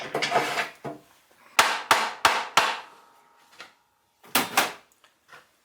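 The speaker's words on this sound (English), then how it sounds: "I don't normally have to hammer it onto this end, but because it's oak" Sharp wooden knocks sound as a handle is hammered onto the oak end of an antique drawknife. A few blows land early, then a quick run of four, then two more, all close and crisp with quiet gaps between.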